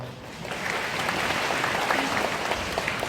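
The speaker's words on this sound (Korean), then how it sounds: "지금 이렇게 박수를 치시는 거 보니까" An audience at a high school admissions information session applauds, a sustained, fairly soft wash of clapping that swells slightly after the start.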